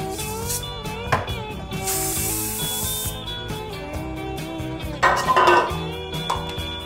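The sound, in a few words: greasing a pudding pan with cooking spray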